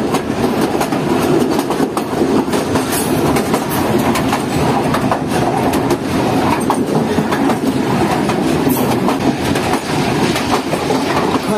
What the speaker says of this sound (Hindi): हमारी ट्रेन किसी स्टेशन पर स्किप कर रही है।